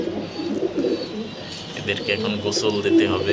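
Domestic racing pigeons, including a molting male, coo in low repeated murmurs close by while someone speaks over them.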